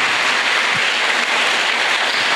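A congregation at a church novena for São Sebastião in Machados gives warm, dense applause, a steady close wash of clapping with no voices.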